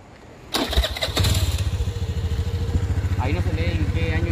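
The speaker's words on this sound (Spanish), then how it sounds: "Sí, siguen pasando más personas en moto." A motorcycle engine cranks twice and catches, then settles into a steady, close, pulsing idle while traffic passes on a roadway near a bridge; a voice speaks briefly near the end.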